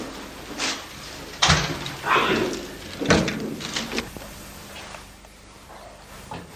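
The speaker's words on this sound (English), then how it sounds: "Shut the door." An indoor door is pushed shut with a couple of sharp, close thuds and faint rattles, followed by quiet room tone.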